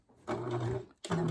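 A sewing machine stitches a seam on a three-layer fabric face mask, two quick bursts of rapid mechanical whirring separated by a brief pause, close and fairly quiet.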